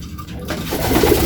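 Racing pigeons coo in a soft, close, throaty burble that swells in the second half against a busy background, with no speech.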